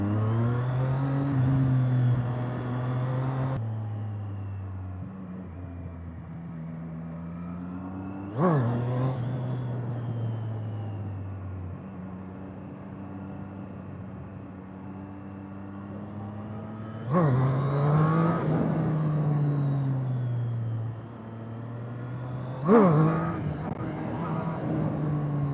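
A 2025 Triumph Street Triple 765 R motorcycle accelerates through the gears, each run a rising, buzzing engine note that drops sharply at the shifts, loud and sustained with the wind rushing behind it.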